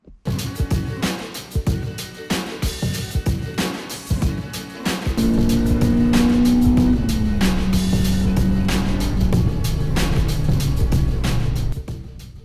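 Car interior noise: thumps and rumbling at first, then a steady engine hum rising and shifting in pitch as the vehicle drives along.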